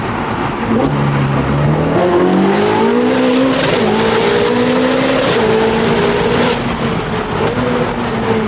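A Ferrari 488 Pista with Novitec tuning roars loudly while driving, its engine note climbing steadily through the revs with shifts marked by pitch steps, a continuous close-up howl throughout.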